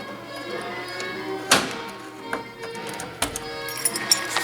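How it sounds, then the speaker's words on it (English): Door lock of a 1960 Chrysler 300F coupe driver door worked with the ignition key, giving a sharp mechanical clunk followed by a second softer latch thunk and small taps, close and distinct against quiet background. "Ignition key locks the door."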